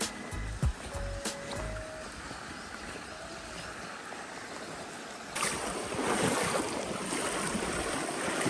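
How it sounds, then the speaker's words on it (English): Fast-running river water while fly fishing for grayling, a steady broadband rush that swells louder and fuller midway, with wind buffeting the microphone and a few brief knocks early on. "The river's running pretty fast today."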